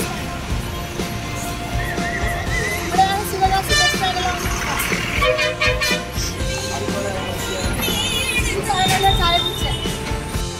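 Busy night road traffic on the way to Sivakasi bus stand: a dense, continuous mix of engines, horns and passing vehicles, with voices now and then in the background.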